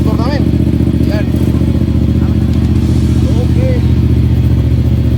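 A large motorcycle engine idles loudly and steadily close by with a constant throbbing rumble, while people talk over it.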